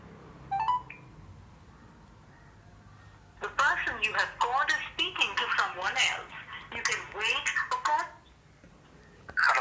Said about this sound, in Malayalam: അപ്പോൾ എൻ്റെ ഫ്രണ്ടിനെ ഒന്ന് കോൾ ചെയ്ത് നോക്കുകയാണ്